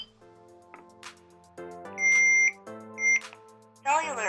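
A Hikvision AX Pro wireless alarm panel sounds a long beep and then a shorter one while arming, mixed in with a synthesized voice prompt from the panel.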